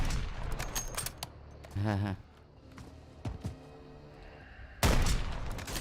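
Bursts of Call of Duty: Warzone gunfire, rapid cracks and a buzzing automatic volley, then quieter scattered shots and a final loud blast, with voices talking in between.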